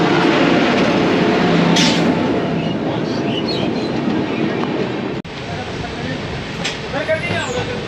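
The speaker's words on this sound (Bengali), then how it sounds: "বারসই থেকে নর্থ ইস্ট যেই গাড়িটা ওটা দশটায় পৌঁছে দেবে ওটা আসছে" The North East Express pulls into Barasat railway station, a steady loud rumble and rattling of rolling carriages filling the whole stretch, with faint squeals and background chatter on the platform.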